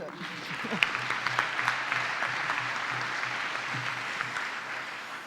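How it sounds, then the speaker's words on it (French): Audience applause at a French conference with student sustainability groups, a dense steady wash of clapping from a hall crowd, moderately loud and sustained throughout, with faint voices underneath. "Vous les applaudissez"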